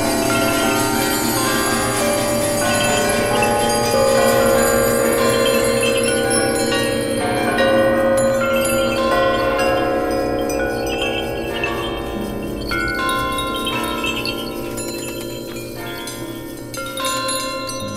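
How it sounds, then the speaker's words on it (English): A Tibetan singing bowl rings loudly and steadily, its rich sustained metallic tone with layered overtones filling the space and slowly decaying without talk. "it was actually a Tibetan bowl, but I decided it was okay to call it a bell"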